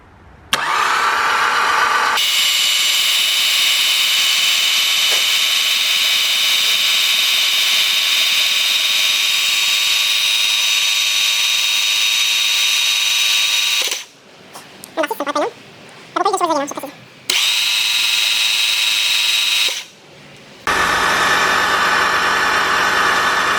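Prepared car engine after spark plug work, cranking and firing into a loud steady idle, cutting out briefly midway while a voice talks, then running again before another short drop and restart.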